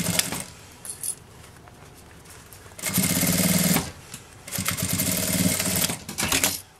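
A close, fairly loud sewing machine stitches a folding accordion-style fabric wallet in two runs of fast, even needle clatter, separated by a brief pause and preceded by quieter handling noise.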